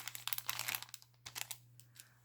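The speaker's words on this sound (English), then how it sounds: "Get it out of my little plastic bag here." Crinkly rustling of a small plastic bag as a piece of woven ribbon is pulled out, a quick run of close, soft crackles that trail off into a few scattered crinkles, with a steady low hum underneath.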